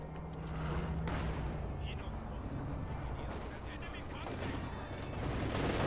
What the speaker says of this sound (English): Field gun shoots.